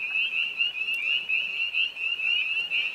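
Chorus of spring frogs croaking steadily in a continuous, dense trill, moderately loud and sustained throughout with no voices.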